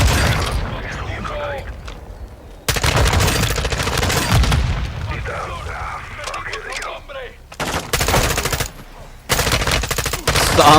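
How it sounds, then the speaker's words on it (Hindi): Heavy automatic gunfire in a Call of Duty gunfight, with dense bursts of shots and booms that come in loud waves broken by brief lulls, game sound effects throughout. "हमें कैप्टन प्राइस ने परमिशन दे दी कि हमें गन फाइट लेनी तो हम ले भी सकते हैं"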